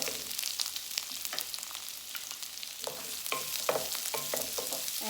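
Onions for karela sabzi sizzle in a pan, a close, steady hiss of frying with occasional soft stirring knocks, no talk.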